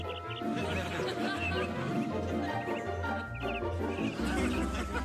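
A hungry chicken clucks steadily while straining toward seed, with a busy background of mixed sounds and faint chatter throughout.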